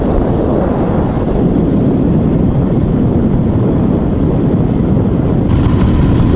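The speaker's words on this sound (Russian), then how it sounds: "Мотоцикл теряет мощность." A Ural motorcycle engine roars steadily while riding at speed on the road, a loud, dense, constant drone with heavy wind rush and no voices.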